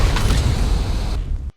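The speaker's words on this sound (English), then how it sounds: "Shoots at fair distance, then explodes in the air or on impact if you actually hit something." A Tropeognathus shot explodes in the game ARK on The Island, a single short, close, muffled boom that rumbles briefly and cuts off.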